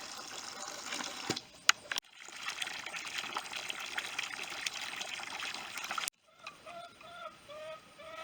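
Water poured for calves trickles and splashes steadily for several seconds, then stops abruptly, followed by faint bubbling and dripping sounds.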